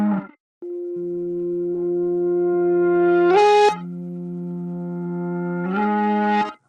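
Sample channels in FL Studio run through a tape bus and play sustained, warm synthetic tones with gentle pitch bends and two bright swells, clean and upfront with no voices.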